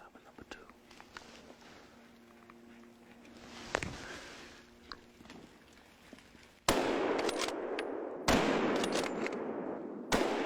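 Gunshots from hunters shooting wild boars ring out as several sharp, loud cracks, with an isolated report near the middle and then a cluster of heavy blasts in the later seconds, heard over a quiet outdoor background.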